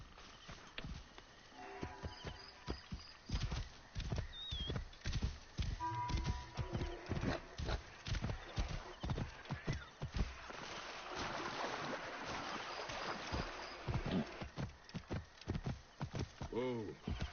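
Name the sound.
horse galloping, clip-clop hooves, in video game Assassin's Creed Origins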